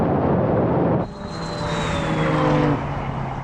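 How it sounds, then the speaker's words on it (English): McLaren 765LT supercar in a drag race, a loud engine roar that drops briefly and then rises in pitch as the car passes close by, with whining tones sweeping downward. "here comes the McLaren now"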